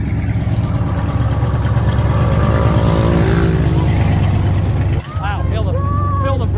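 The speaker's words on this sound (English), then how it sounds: "Wow, feel the bridge rumble when the trucks go over." Trucks rumble across a bridge in a loud, steady low roar of heavy traffic heard from a nearby vehicle, with voices talking over the noise.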